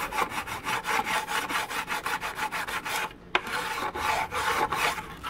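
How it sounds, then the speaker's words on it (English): A hand scraper draws over a wooden model hydroplane kit part in steady back-and-forth strokes, taking off dried glue with a close, dry rasping sound and one brief pause. "Just scraping the glue off."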